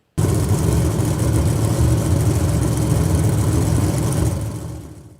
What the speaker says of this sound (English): Whether it's the roaring of the engines or the roaring of the crowd, Monster Jam has been entertaining fans for years.